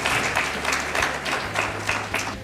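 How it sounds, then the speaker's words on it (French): Audience applause at a ceremony honoring guests: a steady wash of many hands clapping, moderately loud and close, with small swells throughout and no speech over it. "Alors c'est vous qu'on doit applaudir aujourd'hui,"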